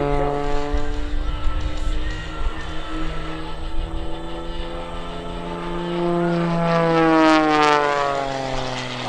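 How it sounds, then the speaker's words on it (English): An Extra 300 aerobatic propeller plane at an airshow holds a loud, steady buzzing engine drone, then swells and shifts pitch as it spins and maneuvers near the crowd. "Just let the torque of the engine spin the airplane around."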